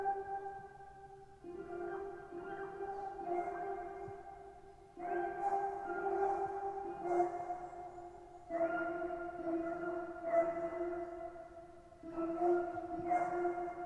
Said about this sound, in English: Next up I added this counter melody, which is a pretty simple one, just alternating between the 4, the 3 and the 2, creating like a dark ambient background layer